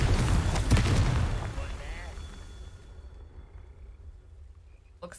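Confringo spell blasting Merlin trial orbs in Hogwarts Legacy: a loud explosive burst with crackling debris that rolls off and fades into a quiet rumble over a few seconds, with someone talking.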